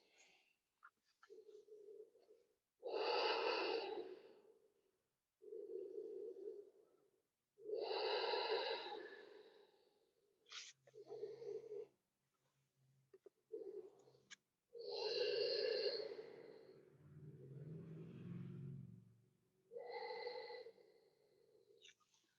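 Slow, deep breathing during yoga relaxation. Soft inhales and longer exhales alternate in a steady, unhurried rhythm, close and quiet, with no talking over them.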